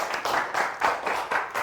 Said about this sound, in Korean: 다 같이 한번 박수 한번 칠까요?